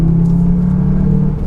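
A Cupra Formentor 310 pulls hard in third gear on a rough track, its engine a loud, steady, close-up drone with no talk over it.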